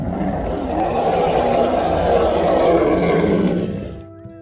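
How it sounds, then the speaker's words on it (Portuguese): A monstrous creature lets out a long, loud roar that swells and then fades over about four seconds, rough and throaty, like half a scream and half a roar echoing across a cemetery. "Um som horrível, meio grito, meio rugido, ecoou pelo cemitério."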